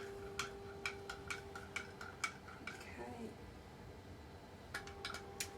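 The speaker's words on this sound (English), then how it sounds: "We're just going to put a spoonful of sugar in, on the bottom there, and we'll just gently mix that in." A spoon gently stirs sugar in the bottom of a glass for Irish coffee. Faint, quiet glassy clinks come in quick clusters, pause briefly, then return.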